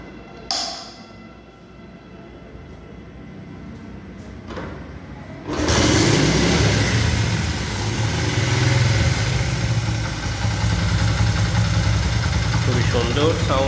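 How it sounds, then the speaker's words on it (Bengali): A 1991 Japanese Honda CD80 motorcycle idles in neutral, the engine catching after a brief mechanical clatter and then running at a steady, close putter, with someone talking over it. "এখন আপনাদেরকে গাড়ির ইঞ্জিনের সাউন্ড শোনানো হবে"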